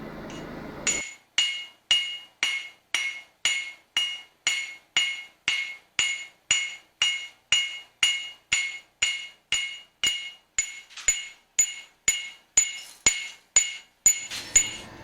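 A blacksmith squares a steel bar on the anvil with a long, steady series of ringing hammer blows, about two per second, each a sharp metallic clink with a short decay, close and alone.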